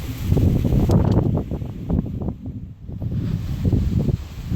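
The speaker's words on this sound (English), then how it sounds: "I hope that the wind isn't messing up the sound too much" Low, uneven wind buffeting the microphone, rumbling and gusting throughout with a brief lull midway.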